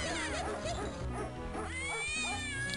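Dog barking in the PC game Mortimer and the Riddles of the Medallion, heard as short barks and yips mixed into a busy game soundtrack with music and other animal noises.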